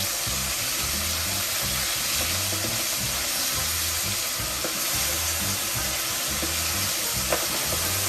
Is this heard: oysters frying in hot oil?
yes